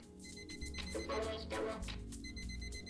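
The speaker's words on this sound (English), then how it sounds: "Or somebody's shouting Odie, and the alarm's going off" An alarm clock rings in the video game Odysseus Kosmos, a steady electronic ringing that runs continuously through the moment over game music, with no talking.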